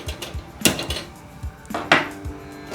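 A small cooking pot handled on a stove, with a few sharp metallic clanks and knocks plus softer scrapes and light taps, close and clear without talk.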